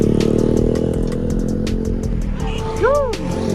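A motorcycle engine revs and rattles close by during a test ride, with rough clattering bursts and people talking over it.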